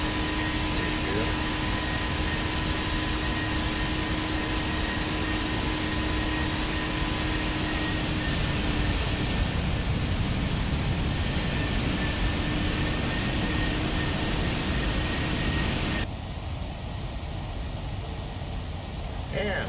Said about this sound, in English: Flying the PMDG 737-900 for United